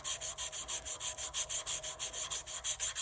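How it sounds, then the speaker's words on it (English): Sandpaper rubs a Lava Lamp Water Nymph pen blank in fast, even back-and-forth strokes, a close scratchy swish repeating about six times a second without pause. "we're just going to take the sandpaper and scratch it up a bit this way."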